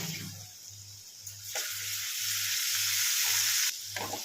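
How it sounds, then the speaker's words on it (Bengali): Sliced onion fries in a pan with garlic paste and ginger paste, giving a loud, steady hiss of sizzling oil with regular soft low thumps from stirring, and no voices. "ভালো করে ভেজে নেব।"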